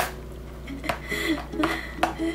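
Garlic and aromatics sauté in oil in a home kitchen pan, with pots and metal utensils clattering in sharp, irregular knocks and scrapes over a steady low hum, and faint talk in the background.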